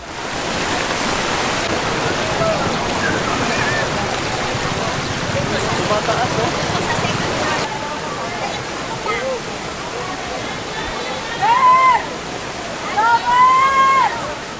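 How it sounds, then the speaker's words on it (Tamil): Floodwater surges through flooded Manila streets after heavy storm rains in the Philippines, a dense, steady rush of water that thins partway through as higher chirping calls break in over it. "ஆற்று நீரைப் போல் சாலையில் வெள்ளம் பெருக்கெடுத்து ஓடும் வீடியோ காட்சிகள்"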